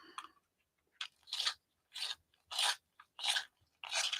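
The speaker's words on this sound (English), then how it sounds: "let me sharpen this one" Pencil being turned in a sharpener before pastel coloring, several short separate grinding bursts with pauses between them, quiet and close in an otherwise silent room.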